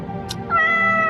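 A single cat meow in a Hindi animated story, a clear, close, drawn-out cry that rises into a sustained tone and holds to the end, with no talking.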